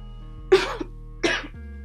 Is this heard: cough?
yes